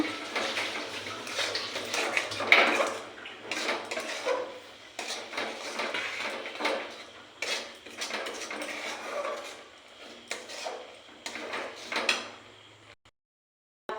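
Coconut and jaggery being stirred in a pan over low heat for coconut sandesh, with irregular scraping and clattering of the spoon against the metal, loud and close, then a brief silence at the very end.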